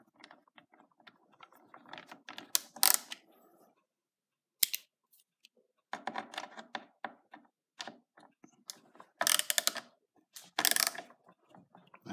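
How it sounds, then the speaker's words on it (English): Small screwdriver driving screws into plastic parts of a Ruger 10/22 bullpup stock: bursts of ratcheting clicks and scraping in close, uneven runs separated by short pauses. "I've got a little screwdriver here to do that"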